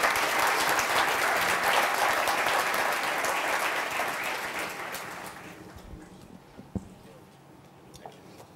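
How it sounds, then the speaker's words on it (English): Audience applause fills a conference hall at a high-level leadership event in Kigali, loud and sustained for about five seconds before fading out, leaving a few scattered claps and small knocks behind. "give a very warm round of applause"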